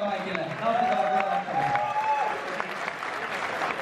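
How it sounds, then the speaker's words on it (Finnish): An audience at an esports final applauds loudly and continuously, with a voice speaking over the clapping and a faint tonal sound in the background. "Vielä kerran aplodit!"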